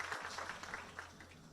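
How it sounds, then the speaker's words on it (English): An audience at a smart border management conference applauds, a fairly faint, steady patter of many hands clapping. "Kindly give them a very warm round of applause"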